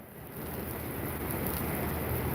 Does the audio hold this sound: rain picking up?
yes